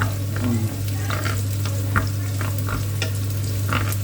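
Garlic frying in olive oil in a pan for Spanish paella, a steady close sizzle under light stirring scrapes, with no talking.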